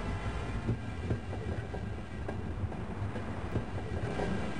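Steady rumbling of a train rolling along rails in a video game, with rhythmic clicking wheel beats, continuous and fairly close, no voices.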